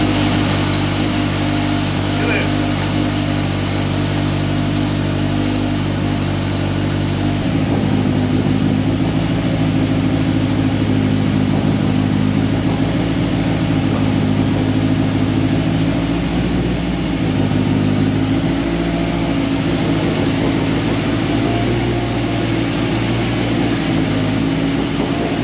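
A Mitsubishi Evo 8/9 engine, newly fitted with a downpipe, fires up and settles into a loud, steady idle with strong low harmonic drone, the pitch shifting slightly partway through as it runs on continuously.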